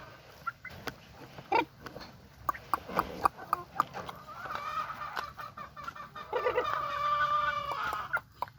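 Pet chicks and chickens clucking and peeping close by, with scattered short calls that thicken into a busier stretch of clucking, mixed with light rustling and no clear speech.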